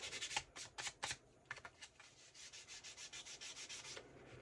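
Sanding the edges of handmade paper cards: close, quiet rasping strokes, first in separate bursts, then in a steady rapid back-and-forth rhythm, with no talking.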